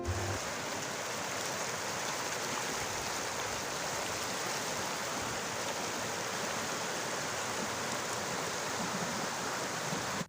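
Steady broadband rush of river water flowing near a crossing point close to Mattur village, Shivamogga, continuous and even throughout with no talk.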